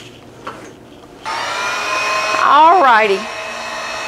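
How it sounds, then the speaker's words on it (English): A heat gun blows hot air to dry a waxed craft piece, a steady loud whoosh that starts abruptly and runs on, with a brief pitch wobble partway through; a voice speaks briefly just before it starts. "I'm going to use my heat gun a minute."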